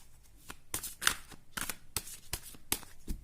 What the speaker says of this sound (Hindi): शफल करती हूँ मैं पहले कार्ड्स को।